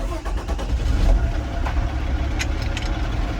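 Diesel engine of a truck tractor idling steadily during a parking brake test, a continuous low rumble close by with a slight rise in revs.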